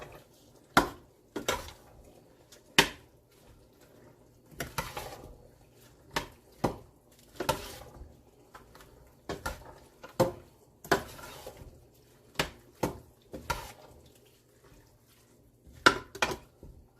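A spoon stirs a mixture in a pot while cooking meal prep, its sharp clinks and scrapes against the pot sides coming in an irregular series of close, distinct hits over quiet background.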